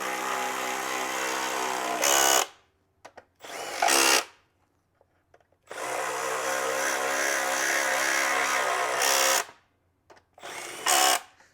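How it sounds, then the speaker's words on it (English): Power tool driving and tightening bolts on a Stihl BR 600/700 blower engine pan: loud whirring bursts of several seconds each, separated by pauses and short sharp ratcheting bursts as bolts seat, close up, no speech. "and then you can tighten all these bolts up."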